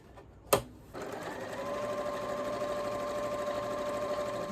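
Domestic sewing machine stitching fabric for a panettone holder: a short sharp knock, then a steady, even motor whir with a fast stitching rhythm running loud and close to the end, no talk.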